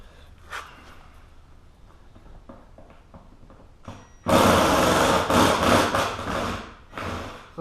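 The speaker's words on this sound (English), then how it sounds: "Get yourself a little nut driver." A small powered nut driver backs out the side panel fasteners inside a 1973 Mustang coupe, with soft handling noises first, then a loud, steady whirring run close by for the last few seconds.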